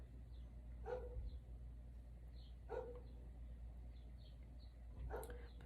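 Three separate barks from a neighbor's dog, spaced a couple of seconds apart, coming from some distance and fairly faint over a constant low hum, with faint birdsong in between.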